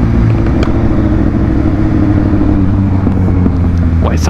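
A motorcycle engine runs steadily and loud, close by, with a few sharp, isolated backfire pops breaking through the rumble.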